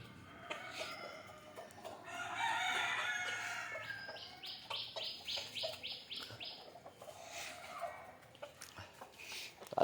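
Native country chickens being fed old rice cluck and chirp softly, with a rapid run of short rhythmic clucks in the middle and scattered calls around it, fairly faint and close.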